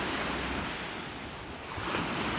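Ocean surf rolls onto ten acres of oceanfront land in Puerto Rico, a steady broadband wash of waves with wind noise buffeting the microphone and no voices.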